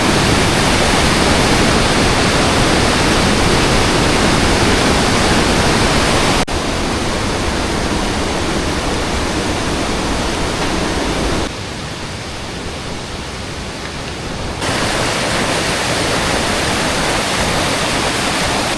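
Swollen, flood-laden river in the Peruvian jungle rushing with great force, a loud, unbroken roaring wash of water filling the scene, with a few abrupt shifts in level.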